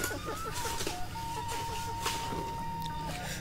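Chickens cluck intermittently in the background amid outdoor ambience, with a faint steady high tone and occasional soft voices.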